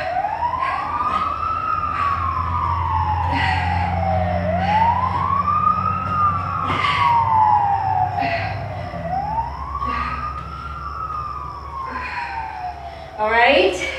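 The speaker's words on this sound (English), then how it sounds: "Fire trucks, always a wreck around here." Fire truck siren passing outside during a home workout, a loud wailing tone rising and falling in repeated slow sweeps over an engine rumble, with a voice talking intermittently underneath.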